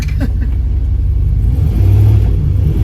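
An LS-swapped turbo Dodge Caravan with no fuel tank fitted moves off under its own power, a loud, close low engine rumble that swells slightly as it pulls away.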